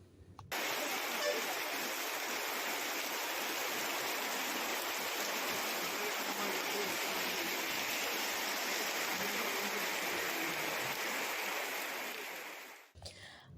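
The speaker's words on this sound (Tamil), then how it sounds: "கோவை நொயல் ஆற்றின் சித்திரை சாவடி தடுப்பணையில் வெள்ள நீர் கரைபுரண்டு ஓடுகிறது" Floodwater rushes over a check dam on the Noyyal river after heavy overnight rain, a dense, steady roar of churning water, loud and continuous, fading out at the end.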